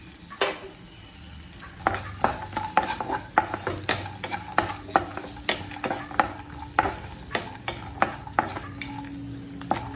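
Almonds and raisins frying in a pan, a soft steady sizzle broken by regular scraping strokes of a spoon stirring, close and clear with no talking.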